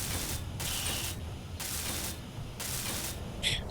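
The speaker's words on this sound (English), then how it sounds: "let's just weld up these ones" Welding tool in the game Space Engineers: a steady hissing, crackling mechanical buzz that pulses on and off in long bursts, with a brief bright metallic sparkle near the end, and no voices.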